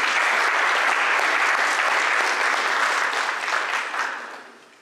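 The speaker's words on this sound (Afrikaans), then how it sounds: "Geef vir my hande klap" A church congregation claps hands together, a dense, steady wash of applause that tapers off toward the end.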